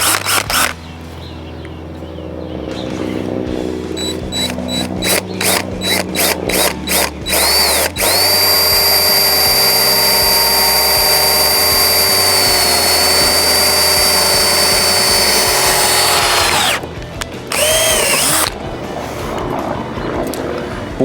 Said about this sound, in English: And then we're going to drill with an 1/8 inch.